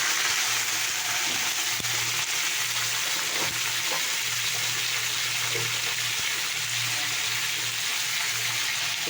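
Green chilli and potato fry in a pressure cooker, giving a loud, continuous close sizzle and crackle with a faint low hum beneath and occasional small clinks, with no speech.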